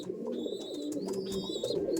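A Kaldom pigeon coos in a low, steady, continuous murmur close by, with a few faint higher bird chirps scattered over it.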